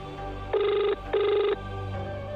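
A telephone rings inside a horror comedy video game: two electronic ring bursts about half a second each, separated by a short gap, over a low steady background hum. No talking.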